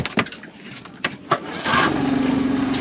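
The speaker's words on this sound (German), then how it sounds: "Der Motor lässt sich so leicht anmachen." Suzuki outboard motor on an inflatable Honwave T35 boat being pull-started: a few sharp rasping cord pulls, then the small engine catches and settles into a steady buzzing idle, close by.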